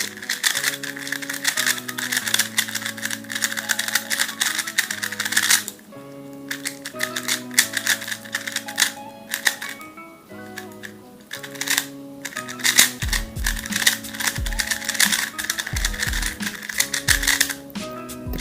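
A YJ YuPo V2M 2x2 magnetic budget speedcube is turned with rapid, light clicking and clacking in quick bursts, partly masked by loud background music.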